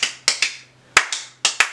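Sharp hand claps ring out close and crisp, in pairs: two quick claps, a pause, two more, then another pair, each with a brief decay.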